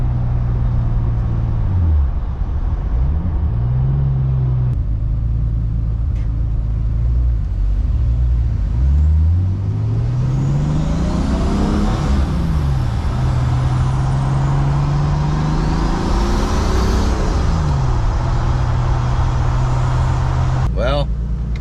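Turbocharged BMW 733i E23 engine pulling under boost while driving, its note rising and falling through several gear-linked sweeps, loud and close inside the car, with faint turbo whistle on top and a brief clunk at the end.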